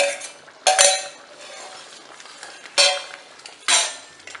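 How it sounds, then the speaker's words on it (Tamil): Kerala ada payasam being stirred in a pot, with a metal spoon scraping and clinking against the sides in three sharp bursts over a softer bubbling background. "கைவிடாமல் கிளறுங்க, இல்லாட்டனா அடி பிடிச்சிரும்."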